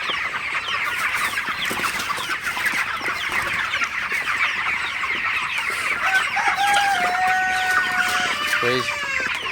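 Broiler chickens in a poultry shed produce a constant chorus of clucking and chirping, with a few louder calls rising near the end.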